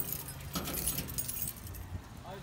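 A bunch of keys jangles near an iron chicken coop, with bright metallic clinks in short bursts close by and a faint engine-like rumble beneath.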